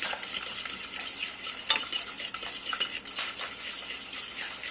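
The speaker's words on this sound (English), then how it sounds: "now I'm going to start mixing it into my boiling liquid" Egg yolks being stirred into boiling liquid in a pot, heard as a steady wash of soft metallic scraping and clinking from a utensil against the pot, close and continuous over a faint simmering hiss.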